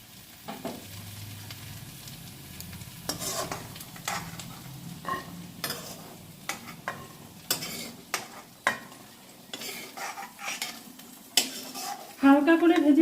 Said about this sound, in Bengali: এইদিকে সবজিগুলো ভাজা হয়ে গেছে,